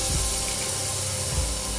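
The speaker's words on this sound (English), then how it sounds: "go ahead and add your patties to it" Beef burger patties sizzle and hiss steadily in a hot pan over medium-high heat, a loud, dense, continuous fry with no talking.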